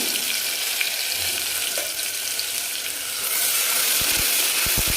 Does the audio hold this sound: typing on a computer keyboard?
no